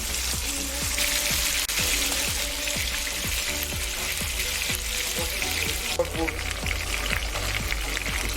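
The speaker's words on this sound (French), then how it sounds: "Nous pouvons voir le chef Pablo disposer de la cuisson du lapin" Rabbit pieces cook in a paella pan with a busy sizzle and bubbling. Frequent clinks and scrapes of a utensil run over a steady background hum.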